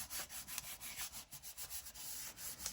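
Craft cardstock is rubbed over the grungy edges of paper in quick back-and-forth strokes, a soft rhythmic scratchy rasp close to the microphone, faint and steady with no talk.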